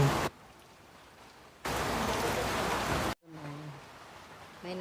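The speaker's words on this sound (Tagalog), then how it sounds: "Umuulan eh." Rain falls in the Philippines where swiftlets gather, coming as steady broadband hiss in alternating heavy and lighter bursts, with a short break near the end and faint bird-like tones over the lighter stretches.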